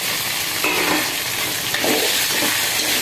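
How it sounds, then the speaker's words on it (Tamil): Tomatoes sautéing in a hot pan make a loud, continuous crackling sizzle, with occasional stirring scrapes over it, close and with no talking. "தக்காளியும் சேர்த்து நம்ம அதோடு சேர்த்து வதக்கிக்கணும்."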